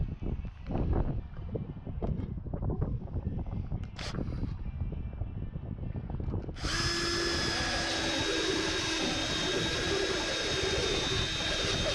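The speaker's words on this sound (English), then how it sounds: "Too much pressure and the bit won't spin. Too little pressure and the bit will not cut the material." Drill bit cutting into material aboard the sailboat S.V. Ad Astra, a rough grinding bore at first, then a steady high whining drive holding loud and close to the end.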